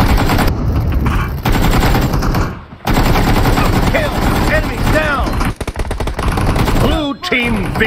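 Dense, loud gunfire fills a PUBG Mobile team deathmatch, with rapid automatic bursts running almost continuously and only brief gaps, while voices talk over the shooting.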